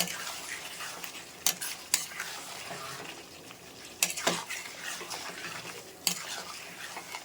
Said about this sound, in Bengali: আমি একটু ভালো করে কষিয়ে নিচ্ছি